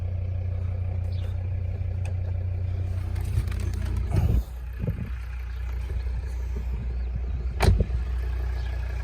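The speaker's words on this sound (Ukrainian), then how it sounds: "Зараз покажу вам, як працює мотор." A 2012 Volvo V60 2.0 D4 diesel engine idling steadily with a low, even rumble heard up close, broken by two brief louder knocks or clunks partway through.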